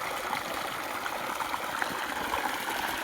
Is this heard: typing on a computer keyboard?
no